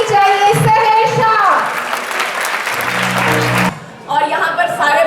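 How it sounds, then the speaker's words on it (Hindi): Crowd at a musical and award night in Lahore applauds loudly, steady clapping layered with music and voices, cutting off briefly before the music and voices continue. "आप सबकी भरपूर तालियों में जब तक वो स्टेज पर आ नहीं जाती तालियां रुकनी नहीं चाहिए"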